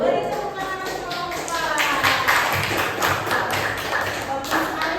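Students at an Islamic junior high school clap in a steady, moderately loud round of applause in a classroom, with voices talking over the clapping throughout.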